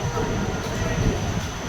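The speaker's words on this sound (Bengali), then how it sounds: "কিছুক্ষণ দাঁড়ানোর পরই বর্ধমান থেকে ট্রেন ছেড়ে দিয়েছে।" Maa Tara Express pulling out of platform 5 at Bardhaman station, a steady close rumble of rolling stock that holds at an even level through the whole stretch.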